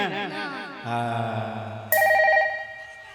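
A short electronic phone ring begins partway through and sounds as a bright repeating tone over some background sounds.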